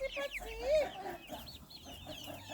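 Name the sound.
chickens clucking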